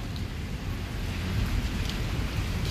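Torrential rain pours down in Islamabad, a steady dense hiss with low rumbling underneath, loud and continuous from start to finish without any voices.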